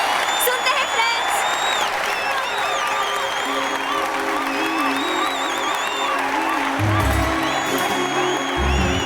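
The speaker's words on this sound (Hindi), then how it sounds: "अरे तालियां क्यों नहीं बजा रहे?" Crowd applause and cheering with whoops in a Hindi-dubbed South Indian action romance film scene, a busy continuous wash of clapping under prominent voices, with tonal sounds and background music running throughout.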